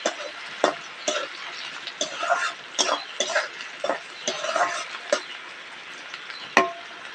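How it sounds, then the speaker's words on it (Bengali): Chopped tomato and onion with a pinch of salt fry lightly in a pan for mushroom curry. A spatula scrapes and taps in an uneven rhythm of close, crisp strokes over a faint sizzle. "হালকা করে ভেজে নিয়েছি, আর দেখো টমেটো পেঁয়াজ নেচিয়ে গেছে।"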